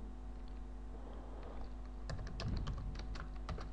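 Typing on a computer keyboard to enter a field name in GIS software, a quick cluster of faint clicking keystrokes over a steady low room hum, with no talk.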